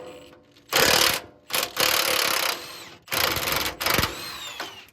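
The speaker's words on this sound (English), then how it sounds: "I have a 21mm socket over here hooked up to the Milwaukee, an 18mm backup." Milwaukee cordless impact tool driving a 21mm socket to break loose a nut on a 1995 truck's TTB I-beam suspension, firing in several loud bursts of buzzing whir separated by short pauses.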